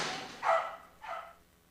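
Dogs bark twice in short bursts during a rat hunt where a grating is being smashed to flush rats out, moderately close with quiet pauses between, no talk.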